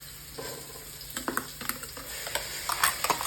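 Green chili, coriander, ginger and garlic paste frying in a pan with onions for a home-cooked chicken dish, giving a soft steady sizzle punctuated by scattered stirring scrapes and clicks, with no talking.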